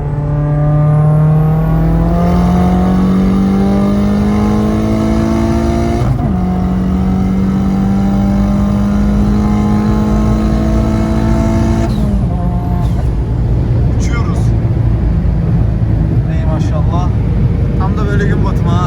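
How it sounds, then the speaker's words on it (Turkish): Citroën DS3 with a 500+ horsepower THP engine revving loudly and continuously, with rising and falling pitch sweeps as the throttle is blipped, dominating throughout with voices faintly underneath. "Hadi ufak bir gazlayalım."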